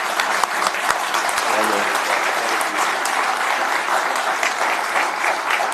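Audience at a county board of commissioners meeting gives a standing ovation, dense steady applause with scattered cheers filling the room without pause, loud and close throughout.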